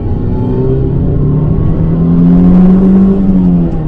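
A 1989 Toyota Celica GTS engine accelerating, heard from inside the car as a loud, continuous droning hum whose pitch climbs steadily and swells slightly near the end.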